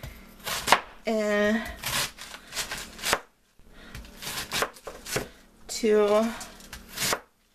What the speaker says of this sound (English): We're going to start by cutting along the side like that.